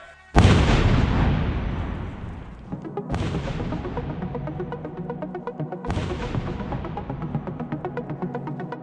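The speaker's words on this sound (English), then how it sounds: "So we're going to take out the detonator here and attach it to the live explosive." A live explosive charge is detonated beside a G-Shock G-Steel watch, giving three huge, close booms roughly three seconds apart, each followed by a long rumbling decay.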